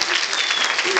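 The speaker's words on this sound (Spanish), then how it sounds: "un fuerte aplauso al Señor, hermano" Applause from a church congregation praising the Lord, a steady dense patter of clapping with a voice speaking over it.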